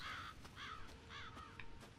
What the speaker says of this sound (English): Crows.